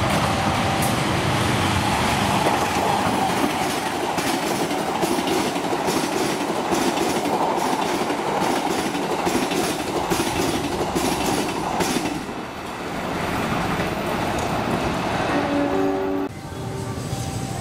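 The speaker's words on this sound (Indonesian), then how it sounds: "Kemudian ini kereta api Bima 76G." The Bima 76G passenger train rolls past on Indonesian rails with a loud, steady rumble and rhythmic clickety-clack of wheels over joints, fading toward the end as the last cars go by.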